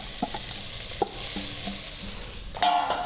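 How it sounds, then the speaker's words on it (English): Cabbage hitting a hot pan with turmeric, a steady frying sizzle with a few stirring clacks and scrapes, ending in a brief louder burst of sizzling. "And right into that, we're going to put our cabbage."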